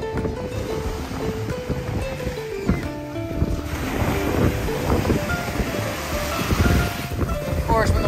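Ocean waves rolling onto the beach at Anna Maria Island, Florida, make a steady broadband wash with surges building and breaking through the middle and end, together with wind noise and some faint voices in the background.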